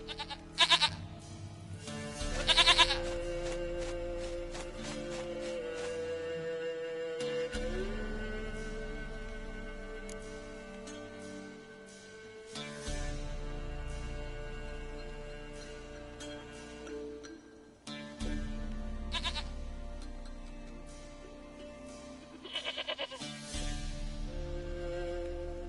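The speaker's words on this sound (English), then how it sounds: "Goat of mine, dearest, sweetest goat." A goat in The Witcher 3: Wild Hunt lets out several wavering bleats in scattered bursts over a steady game soundscape, with no talking.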